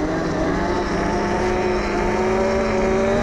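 A 72V electric pit bike rides slowly on snow, giving a steady rising electric motor whine with a faint tonal hum over constant wind-like noise, no talking.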